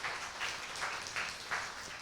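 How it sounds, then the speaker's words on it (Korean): A church congregation at a Sunday service applauds the student praise team, a faint, distant patter of clapping that swells slightly in a few soft waves. "우리 찬양단에게 여러분 한번 박수 한번 보내주세요."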